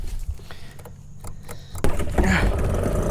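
A small outboard boat motor on a musky fishing boat catches after a clogged fuel hose and settles into a steady, close mechanical running hum with a sudden louder surge partway through.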